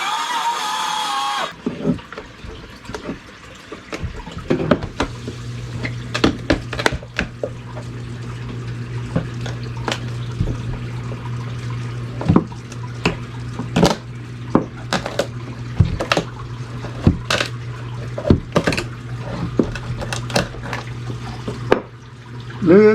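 Floodwater flowing over basement floor boards, a steady running trickle with a low hum, broken by frequent sharp clicks and knocks from nearby work, close and fairly loud.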